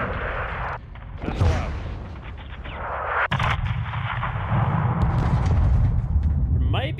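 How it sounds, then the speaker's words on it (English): Missile strike explosions in Call of Duty: Modern Warfare II, heavy booming blasts and rumbling impacts rolling continuously, loud and close, with a sharp crack midway. "Missile out."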